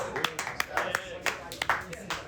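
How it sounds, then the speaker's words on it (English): A comedy club audience claps in scattered, uneven bursts, several sharp hand slaps close together over a couple of seconds, with voices mixed in. "Clap it up"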